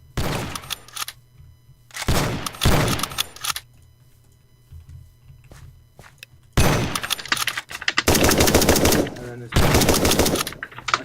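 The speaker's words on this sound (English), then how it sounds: "I sniped that bandit." Loud, close gunfire in the video game Rust comes in bursts, short rapid volleys at first and then a long stretch of sustained automatic fire after a quiet gap.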